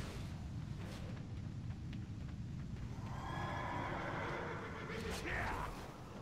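Horse riding in World of Warcraft, with hooves clip-clopping steadily under ambient game sound and a whinny rising toward the end, moderately quiet throughout.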